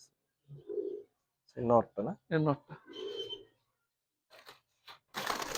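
Racing pigeons give soft, low cooing in short bursts, with people talking close by between the calls.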